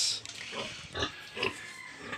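An oversized pig raised for slaughter grunts in about four short, close bursts spaced across a couple of seconds, with quiet gaps between them and no speech.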